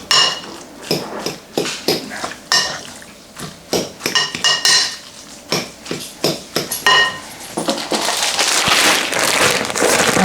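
Ingredients mixed in a bowl with a utensil, giving a quick series of sharp clinks and scrapes against the bowl, then a steadier wet stirring swish toward the end, close up and with no one talking.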